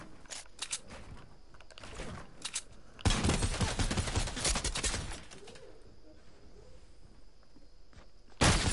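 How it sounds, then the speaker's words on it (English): Sniper rifle fire in the video game Fortnite: a dense burst of loud shots in the middle and another at the very end, over lighter scattered clicks and ambient game noise, with no talking. "they're both shooting their snipers at me"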